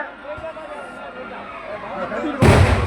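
Firecrackers at a Tamil temple festival: one loud, sharp burst cracks out near the end, following a stretch of crowd murmur and an amplified voice speaking over the gathering.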